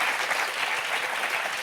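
Audience applause on a French television talk show, a dense steady burst of many hands clapping at an even level, with no voices standing out.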